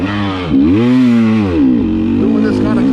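A 2020 KTM 300 XC-W TPI two-stroke dirt bike pulling hard in third gear on a Florida trail, a loud, close, raspy engine note that dips and swells with the throttle, steady throughout.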